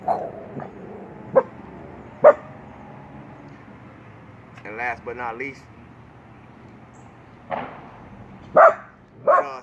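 Dogs bark and yip in short, separate bursts, a few near and loud, in between someone talking.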